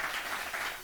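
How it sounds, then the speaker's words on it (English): Brief burst of audience clapping at a live poetry reading, a short even patter of hands from a small crowd. "You can clap it up for that."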